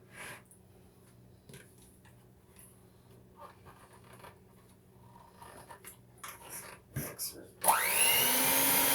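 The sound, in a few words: electric mixer mixing cream cheese batter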